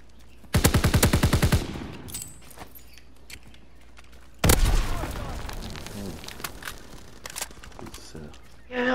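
Gunfire in the video game Call of Duty: WWII comes as a rapid automatic burst, then a heavy shot followed by scattered further firing and game effects, with players talking throughout.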